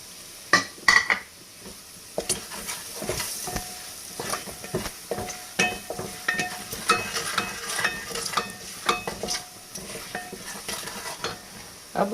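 Reserved spices go into a frying pan for Sindhi pakora curry, giving a soft sizzle under repeated scraping and clinking of a spoon against the pan, irregular and fairly close.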